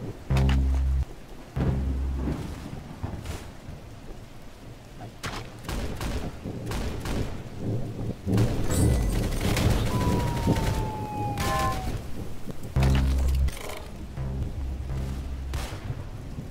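Gunfire in the Roblox shooter Arsenal, played on PC, crackles in bursts of shots with thumping low hits over a steady layer of game noise, loud and close throughout.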